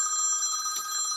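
A telephone rings with a steady electronic trill, fairly loud and close, with no talking over it.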